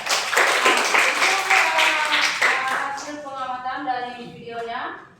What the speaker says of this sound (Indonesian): Tepuk tangan untuk Indra.